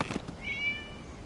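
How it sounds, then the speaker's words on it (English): A cat in the Genshin Impact video game gives a single short meow, clear and close, lasting about a second. "It was just a cat."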